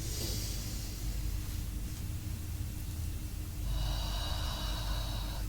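Breathing sounds made during a spine exercise routine, steady airy inhaling that blends into a constant broadband background hiss, with no talking.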